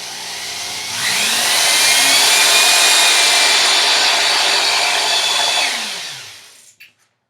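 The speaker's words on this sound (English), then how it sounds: "It's all set up in my drill motor here." A drill motor spins up and drives a Little Crow Gunworks cartridge case trimmer, a steady high whirring whine with a cutting hiss that holds for several seconds, then winds down and stops with a couple of small clicks.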